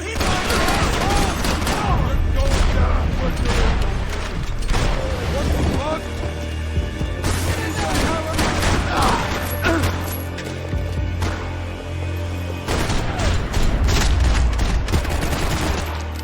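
Rapid bursts of gunfire from the video game Max Payne 3 rattle loudly and nearly nonstop in a morgue shootout, with booms and crashes mixed in under voices and game music.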